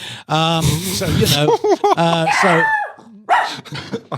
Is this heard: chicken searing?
no